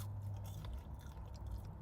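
Biting and chewing a hot, plain crinkle cut fry at a cafe, a close, soft, muffled crunch and mouth-chewing sound continuing steadily for a couple of seconds, with no talking.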